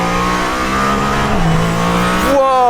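A Mercedes-AMG ONE hypercar lapping the Nürburgring circuit, its engine droning loud and close with a steady pitch that dips briefly, then climbs sharply as it revs up near the end.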